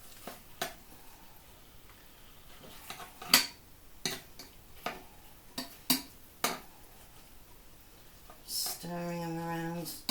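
Frozen vegetables stirred and turned over in a pan on medium heat while making a creamy Cajun chicken stew, heard as scattered sharp clatters and scrapes of a utensil against the pan, ending in a brief louder tonal clang.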